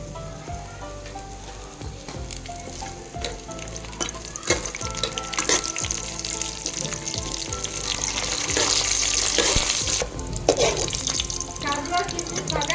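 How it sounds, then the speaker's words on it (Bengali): Cashews and raisins fry in hot oil in a kadai, with a loud continuous sizzle, scraping stirs and occasional clinks that build toward the end, heard alone without speech. "তেলটা গরম হয়ে গেছে এখন ভেজে নেব কাজু আর কিশমিশ"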